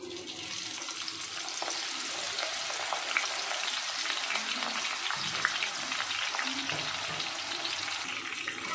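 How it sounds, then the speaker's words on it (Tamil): Jackfruit peel chips frying in hot oil, a steady dense sizzle with crackling bubbles running throughout, close and fairly loud, with occasional light stirring. "இதையும் நம்ம ஃப்ரை பண்ணி எடுத்துக்கலாம்."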